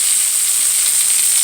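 Chicken sizzles in a hot pan, a continuous, bright, close frying hiss with no break and no talk.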